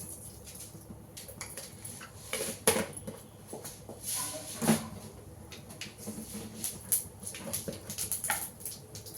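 Mustard seeds dropped into hot oil for tempering, giving scattered sharp pops and crackles over a faint background hiss, irregular and close.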